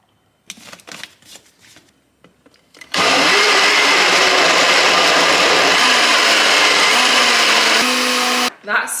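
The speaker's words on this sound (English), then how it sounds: "That Smeg blender, by the way," A Smeg blender blends a smoothie of whey protein, ice and milk, running loud and steady for about five seconds after a few soft clinks and taps, then cuts off abruptly.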